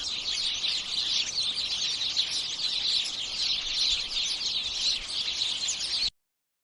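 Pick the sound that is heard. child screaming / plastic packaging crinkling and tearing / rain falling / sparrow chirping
sparrow chirping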